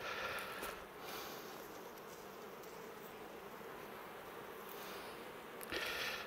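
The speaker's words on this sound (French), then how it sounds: "Un peu d'abeilles, ouais." Bees hum around open hive frames, a soft, steady, close buzzing swarm that carries on without a break, with faint handling noises at the start and end.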